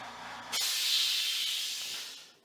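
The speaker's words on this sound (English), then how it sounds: "That's my air compressor that runs." An air compressor used with a fiber laser kicks on with a sudden loud hiss after a brief low hum, then runs as a steady, close, broadband rush of air that slowly fades.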